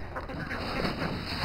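Ducks on a winter poultry yard give a few faint, short quacks under a steady wash of background noise.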